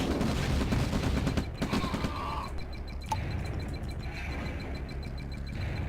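Gunfire from the Red Alert 1 strategy game crackles in dense, rapid bursts through the first couple of seconds, then thins into scattered shots and booms over a steady busy background, with faint voice responses mixed in.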